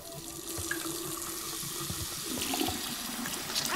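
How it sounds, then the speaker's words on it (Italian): A water tap runs at a sink while hands are washed in the video game Life is Strange 2, giving a steady, close splashing flow with small spatters throughout, and no voices over it. "So wash fast. My hands are ice cubes."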